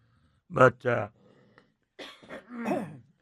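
Two people cough in quick succession, a short pair of harsh coughs, a pause, then more coughing and throat clearing close to the mic.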